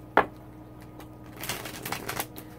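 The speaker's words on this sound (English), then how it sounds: "I feel like it needs a good shuffle or two." A tarot card deck being shuffled, a quick riffle of papery flutters after a sharp tap, close and fairly quiet with no talking.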